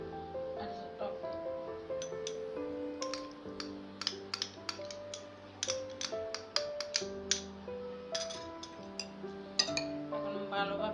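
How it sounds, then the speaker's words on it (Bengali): A chicken kebab marinade of salt, tomato sauce and yogurt is mixed in a bowl, with light clinking and tapping utensil strokes under soft background music. "এখন ভালোভাবে মিক্স করে দেব।"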